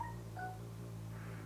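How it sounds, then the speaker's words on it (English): A phone notification sounds as a few faint, short electronic beeps over a steady low hum, quiet and close, with no talking. "Oh, that's my phone."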